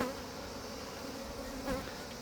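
Honeybees buzzing around an open hive during open-style feeding, a steady close insect drone with a brief louder swell near the end, no talking.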